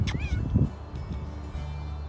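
A cat meows once or twice near a pasture fence on an Oregon farm where chickens are kept, a short rising call early on, followed by low rustling and background noise.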